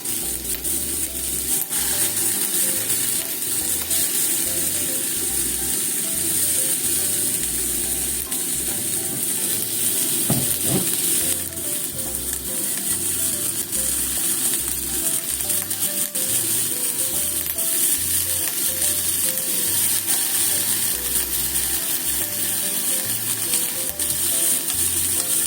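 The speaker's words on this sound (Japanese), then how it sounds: "これで中火でしばらく焼き3分ほど焼くのでちょっとお待ちください。" Eggplant grills in a pan over medium heat, giving a continuous loud sizzle and crackle that holds steady for the whole stretch, close up with no voices.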